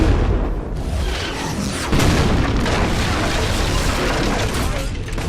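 Mortar explosions in the Fable 3 video game, a loud sustained barrage of booming blasts with a fresh heavy impact partway through, dense and close throughout.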